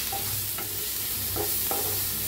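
Cumin, mustard seeds, asafoetida, turmeric and red chilli masala roasting in a hot pan, a dense continuous sizzle with a few sharp spatula scrapes and stirs, close and alone.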